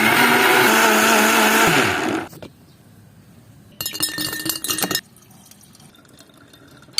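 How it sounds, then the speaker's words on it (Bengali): An electric blender whirs loudly, blending chopped apples with sugar for apple juice, then cuts off; after a quiet pause, a second short burst of blending is followed by silence. "এখন আপেলটিরে ব্লেন্ড করে নেব এখন দেবো চিনি এখন সবকিছু ব্লেন্ড করবো"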